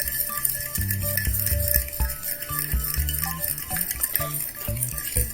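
Beaten eggs stirred in a bowl for beef milanesas, rhythmic close clinks and scraping of a utensil against the bowl in quick repeated strokes, no talking.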